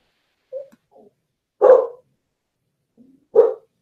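A dog gives three separate barks, one short and quiet and two louder, with pauses between them and nothing else heard.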